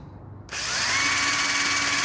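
A power drill spins up suddenly with a sanding attachment on a Rover 45 headlight lens, settling into a loud, steady high-pitched whine close by after a quiet start.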